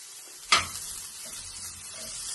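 Chopped garlic hits a hot pan with a sudden loud hiss, then settles into a steady low sizzle with soft stirring while a cauliflower, carrot and potato gravy is being cooked.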